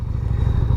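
A 1988 Yamaha Virago 250 motorcycle engine idles and revs after a carburetor install, a steady close low throbbing pulse for under a second with no talk.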